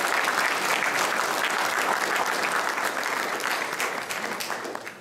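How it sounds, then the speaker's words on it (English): Steady audience applause, dense and sustained clapping from a crowd that tapers off slightly toward the end. "If we could give them a round of applause."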